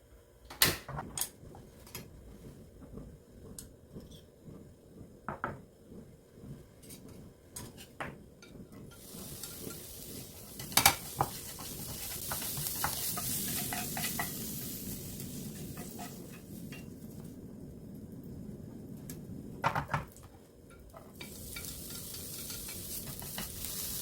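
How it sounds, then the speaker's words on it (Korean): Vegetables, seasoned meat and bracken stir-fried in a pan for bibimbap, with repeated scraping and clinking of utensil on pan over a rising and falling sizzle, close and busy, no talking. "이제 채소들을 볶고 양념이 된 고기와 고사리를 볶은 다음에 볶은 고추장을 만들어 보도록 하겠습니다"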